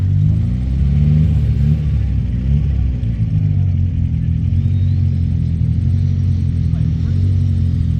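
A car doing grass skids around a cone at a Manawatu car club event, its engine a loud, steady low rumble with revving throughout, while people talk and cheer nearby.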